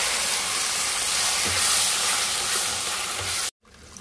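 Fish head frying in spiced oil while being stirred in a pan for Bengali moong dal: a loud, steady sizzle and hiss with occasional stirring scrapes, cut off abruptly near the end.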